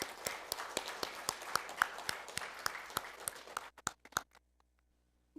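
A church congregation claps in praise during a Sunday service, steady rhythmic clapping at close range that thins out into a few last claps and then stops.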